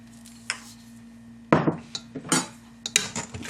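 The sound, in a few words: stirring beef short ribs and Brussels sprouts in a pan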